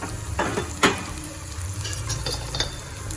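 Ridge gourd curry sizzles and fries in a pan while it is stirred, a steady hiss broken by a few scraping clinks of the spoon against the pan.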